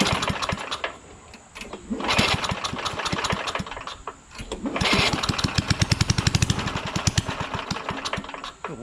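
A Craftsman push lawnmower with a Tecumseh engine, running short of fuel, sputters to life twice, revving loudly with rapid knocking beats before dying away each time, close and alone.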